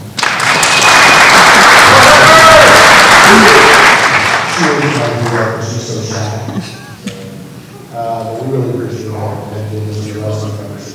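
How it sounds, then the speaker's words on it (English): Loud audience applause at a membership portal training seminar, a dense sustained wave of clapping for about four seconds that tapers off as a speaker begins talking over the fading claps. "could you give her a round of applause?"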